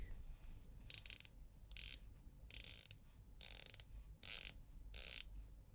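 Rotating bezel on a DIY-built 300m diver watch, turned in six short ratcheting bursts of crisp clicks at roughly even intervals, close and clear against quiet background.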